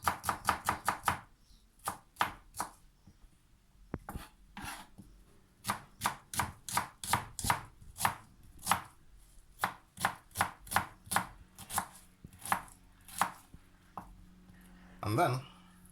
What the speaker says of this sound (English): you don't have to chop it like really fine